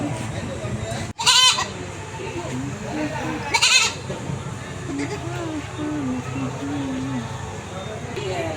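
A sick goat suffering from fever and cold bleats twice, loud and close, with a voice talking steadily through the rest.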